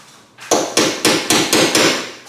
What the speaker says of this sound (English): I have my center punch. Just gonna recess these a little bit,